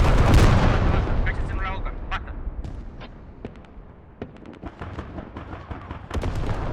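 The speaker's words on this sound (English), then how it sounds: "Artillery coming in, and this is the only other fob that MSL was using" Artillery shells land on a forward operating base in the military shooter Squad, a heavy blast followed by scattered distant booms and gunshots, while a voice speaks over the bombardment.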